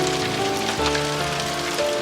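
Rain falls steadily on a surface in a children's cartoon, a soft continuous patter with no voices.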